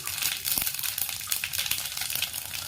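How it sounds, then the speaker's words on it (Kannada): Mustard seeds and cumin sizzle in hot oil, a dense, continuous crackling fry with rapid small pops, close and loud, and no voices. "ಎಣ್ಣೆ ಚೆನ್ನಾಗಿ ಕಾದ್ಮೇಲೆ ಸ್ವಲ್ಪ ಸಾಸಿವೆ ಸ್ವಲ್ಪ ಜೀರಿಗೆ"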